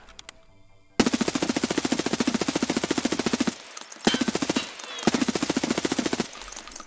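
Automatic fire from an HK rifle in the shooter game Escape From Tarkov, two long rapid bursts of rhythmic shots with a short pause and a brief third burst, loud and close with no talk.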